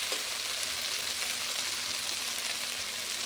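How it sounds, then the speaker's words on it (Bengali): Onion and cumin spice paste frying in a pan for a potato and rohu fish curry gives a constant close, hissing sizzle throughout, with no talking. "এবার পেঁয়াজ বাটা, জিরে বাটা ভালো করে মশলাটা ভেজে নেব।"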